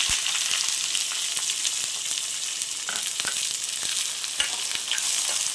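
Steady, dense sizzling of finely chopped onions frying in a hot pan for millet paniyaram, with occasional clicks and stirs, close and continuous without any talking.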